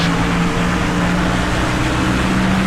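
Race car engines in the NASCAR Thunder 2004 video game, a steady loud drone with a low hum as a car runs alongside, continuous for the whole stretch with no talk over it.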